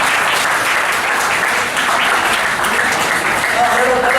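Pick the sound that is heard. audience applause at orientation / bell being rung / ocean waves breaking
audience applause at orientation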